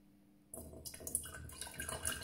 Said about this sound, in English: So I'm going to pour some water into each of these jars.